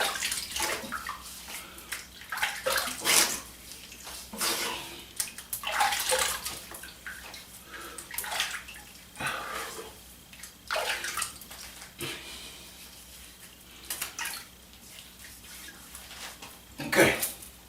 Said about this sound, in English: so the next thing you need to do, you need to rinse